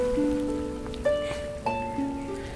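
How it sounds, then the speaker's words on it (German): Rain pattering on a surface at a lakeside with a few louder drips, and sustained tonal hums running underneath. "Es regnet wirklich und ich bin schon richtig nass auf der Birne."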